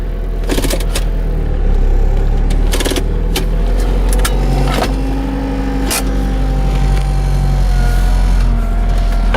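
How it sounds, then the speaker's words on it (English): A 1994 Saturn SL2 with a 4-speed automatic idling just after a very cold start, a loud steady engine drone with a whining power steering pump and occasional clicks and knocks close by. "Power steering is nice and whiny."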